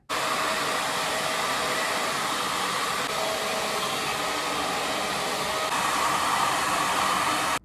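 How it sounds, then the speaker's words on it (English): A hair dryer blow-drying natural hair during an at-home blowout gives a loud, continuous airy roar that holds steady from start to finish, close to the listener, with no talking. "and then we blow dry"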